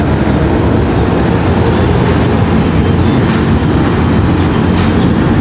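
A loud, steady rumbling roar of an elevated electric train passing over Phra Khanong canal on Sukhumvit, Bangkok, fills the whole stretch, dense and continuous with no pauses.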